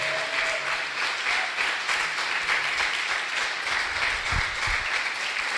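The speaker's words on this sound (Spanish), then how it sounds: "¿Por qué no le damos un fuerte aplauso al Señor?" Loud, steady applause from a church congregation during a Spanish-language Sunday worship service, continuous dense clapping for several seconds with a few faint voices beneath.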